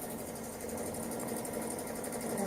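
A sewing machine runs a lock stitch across the edge of quilt batting in a quilt-as-you-go project, a steady, close mechanical whir with fast, even rhythm.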